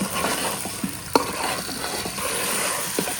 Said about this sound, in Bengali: এখন এই রাওয়ার গোস্ত ভালো মতো কষাইতে হইবে।